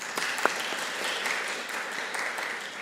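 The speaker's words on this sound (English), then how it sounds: "Let's give a clap for the band." Congregation applauding the band at a Sunday morning chapel worship service during a gospel choir weekend, an even, moderately distant wash of clapping that holds steady throughout with a few sharper individual claps.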